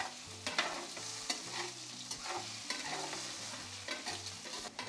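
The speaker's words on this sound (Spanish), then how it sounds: "Hay que estarle moviendo para que no se peguen" Potatoes frying in oil in a cazuela are stirred repeatedly, a spoon scraping the pan in steady strokes over a constant soft sizzle, with no talking.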